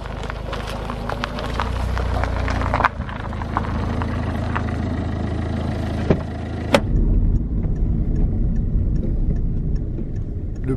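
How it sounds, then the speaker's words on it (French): A car driving off, heard from inside with engine rumble and road noise, a few knocks and clicks, then a sharp thump before the sound settles into a quieter, steady hum. "Le rituel de filmer les départs en voiture."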